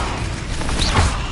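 Incendio fire spell cast in a Harry Potter video game, a brief rushing whoosh with a low burst near the end.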